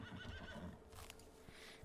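A horse in Farming Simulator 19 gives a faint, drawn-out whinny in the first second, then some soft thuds and clatter follow.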